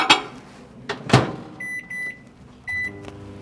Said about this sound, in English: return it back to the microwave again for another 20